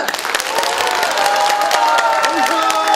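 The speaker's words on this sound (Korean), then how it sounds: "박수 치신 여러분 책임지십시오." A large crowd at a Korean party leadership election convention in Daejeon applauding and cheering loudly and continuously, with shouts and whistles rising from the hall.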